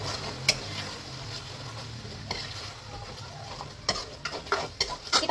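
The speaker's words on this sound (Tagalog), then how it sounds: "Haluin lang natin hanggang mag-combine lahat ng ingredients." Pasta sauce ingredients sizzle softly in a frying pan as a utensil stirs them, with sharp scrapes and clacks against the pan that grow busier near the end.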